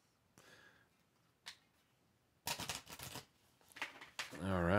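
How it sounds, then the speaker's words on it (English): Two bursts of quick riffling card shuffles, the second longer and louder, with a few soft taps and faint room noise in between. "So let me shuffle these again."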